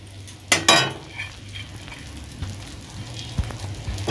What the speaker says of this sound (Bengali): ঘিটা গরম হয়ে গেছে, এবার ডালিয়াটা দিয়ে দেব